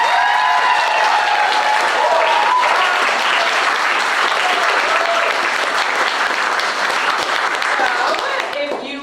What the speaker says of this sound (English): now round of applause for everyone.